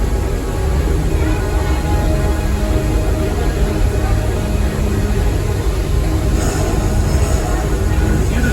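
The Walt Disney Railway train runs around the park with a steady, loud, rumbling rattle of wheels and cars. Faint squeals and hums sit within the continuous mechanical drone.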